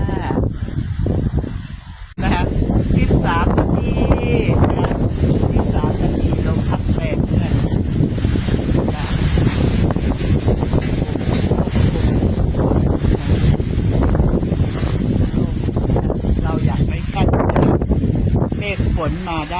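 Strong wind roars and buffets the microphone for the whole stretch, a loud, constant rumbling rush with a person talking throughout.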